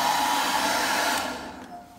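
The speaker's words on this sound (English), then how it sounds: "then we have a hair dryer to start drying it out so we can start spraying the solution" A hair dryer blows steadily at close range, drying out a toilet bowl before a coating spray, with its whine easing and dropping in level toward the end.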